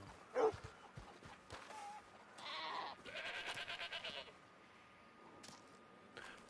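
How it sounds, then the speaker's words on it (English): Goat bleating in the Red Dead Online video game, a few moderately faint bleats spaced over several seconds against farmland ambience, with light clattering and hoof-like taps between them. "I love the noise that goats"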